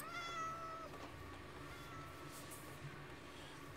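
A cat meowing in the modded Minecraft pack All the Mods 6, a couple of thin, faint tonal meows near the start over quiet game ambience.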